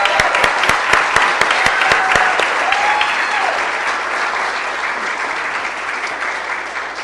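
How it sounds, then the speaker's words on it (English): Applause fills a city council meeting chamber, starting with sharp nearby claps and settling into a steady wash of clapping from the audience that slowly fades, with no talk over it. "So please join me in giving her a round of applause."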